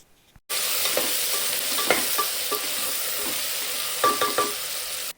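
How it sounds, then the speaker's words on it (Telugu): Stuffed brinjals frying in hot oil with mustard seeds in a pan, a loud steady sizzle with occasional scraping stirs and small clinks, starting abruptly after a brief silence. "ఇంకా ఇవన్నీ కూడా మనం అయితే ఆయిల్లో బాగా ఫ్రై చేసుకుందాము"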